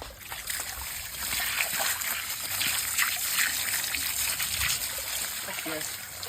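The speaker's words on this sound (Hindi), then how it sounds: "पानी ढाल" Water is poured out at a village home with a garden, a continuous splashing trickle running throughout with people talking over it.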